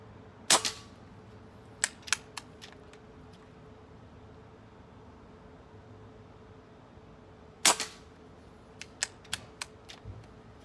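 An air rifle fires .22 JSB Match Diabolo pellets at about 2,200 PSI. Two loud, sharp cracks ring out about seven seconds apart, and between them come quieter clicks and snaps from handling the gun. There is no talking.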